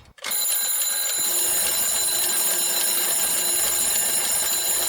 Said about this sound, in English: And then the alarm clock goes off again.